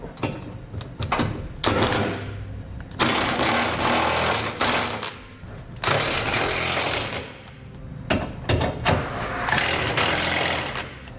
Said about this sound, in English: For all the new nuts, we'll use a 3/4 inch socket.